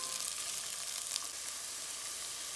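Onions sauté in a hot pan for a potato and mushroom quiche as the mushrooms go in. The sizzle is soft and steady with a faint crackle, and nobody talks over it.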